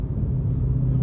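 A C6 Corvette's engine accelerates hard with a deep, loud low rumble. It is heard from inside the car in traffic, continuous and sustained, with no talking.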